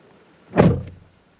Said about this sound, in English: That's how a door should close.